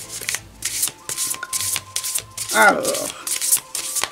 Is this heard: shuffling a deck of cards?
yes